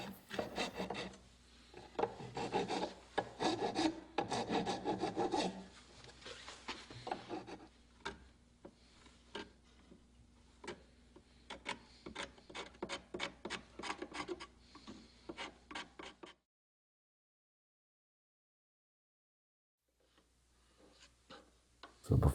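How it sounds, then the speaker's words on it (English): Curved file rasping across oak during box making, a steady run of close, scratchy back-and-forth strokes that stops near the end, followed by a few seconds of silence. "and finally the curved file."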